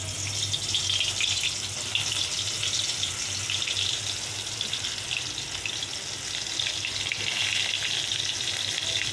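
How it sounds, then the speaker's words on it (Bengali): Slices of pointed gourd, rubbed with salt and turmeric, fry in a hot wok, making a steady, loud hiss and sizzle with fine crackles that continue unbroken nearby, with no speech. "তো এই দেখো পটলের নুন হলুদ মাখানো হয়ে গেছে, কারণ ভাজা বসাবো। তো কড়াই তেতে গেছে, চলো।"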